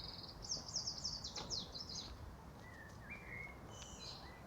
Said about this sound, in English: Such clear, loud bird song